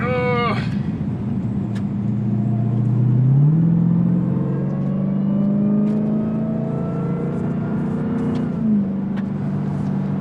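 A 2021 Dodge Durango SRT SUV engine revs and accelerates hard, its loud rumbling note climbing in pitch through a gear, dropping at a shift, then rising again, with a sharp rev blip at the start.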